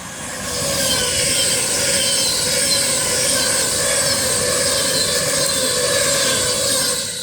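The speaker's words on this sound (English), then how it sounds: "39011 City of Lichfield with a Avanti West Coast service from London Euston to Preston" Avanti West Coast Class 390 train 390011 City of Lichfield passing at speed on the West Coast Main Line at Crewe, a loud, steady roar and rushing whine that holds close and constant throughout.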